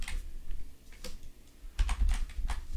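A script name is typed on a computer keyboard: a quick run of clicky keystrokes, close and moderately loud, with a brief pause mid-way before a denser final burst.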